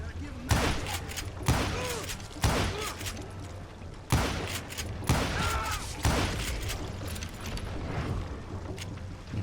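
Repeated gunshots from the Western shooter video game Call of Juarez Gunslinger ring out roughly once a second, loud and sharp, over a continuous game soundtrack with boat-like rumble and background noise.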